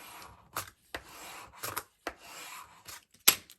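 Burnishing a paper hinge onto a craft box, quiet close scraping and rubbing strokes in short uneven bursts with soft taps between them.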